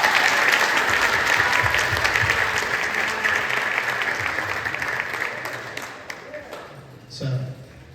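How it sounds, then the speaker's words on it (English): A school audience at a high school percussion night concert claps in a sustained round of applause that slowly tapers off over several seconds, ending with a few scattered claps and some low background voices. "So can we give a round of applause for Mr. Lin?"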